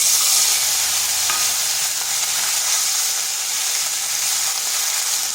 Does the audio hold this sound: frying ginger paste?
yes